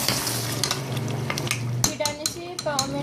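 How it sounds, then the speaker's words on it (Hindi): Onions frying with mutton paya in a pot, a steady sizzle broken by scraping stirs and clinks of a metal spoon against the pan, with a low hum underneath. "अब इसको जो हम अच्छी तरह से भून लेंगे।"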